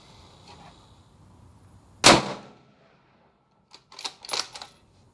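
Single loud rifle shot from a Ruger RPR firing Underwood 140 grain ammunition, a sharp crack with a brief decaying tail, followed a moment later by faint rustling and clicking handling sounds outdoors.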